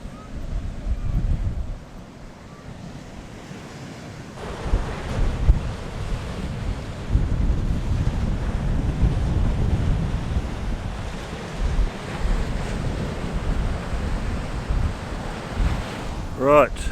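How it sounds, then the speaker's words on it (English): Strong gale-force wind roars across the microphone beside a sand dune near the ocean, with the constant wash of waves beneath it, loud and sustained throughout. "it is blowing a gale up here"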